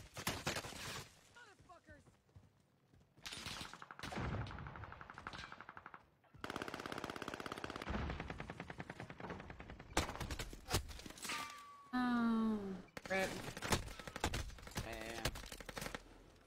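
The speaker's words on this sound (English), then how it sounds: "Hitting each other with two bullets at a time." Video game gunfire comes in bursts of rapid automatic shots and sharp single reports, broken by quiet gaps and mixed with game sounds, loud and close.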